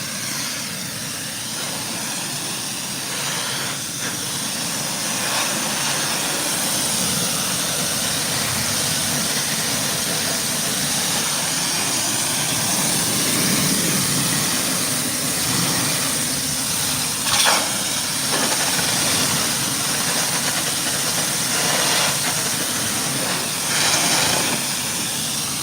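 A steady hissing water spray rinses something down, loud and continuous throughout with slight surges and no talk.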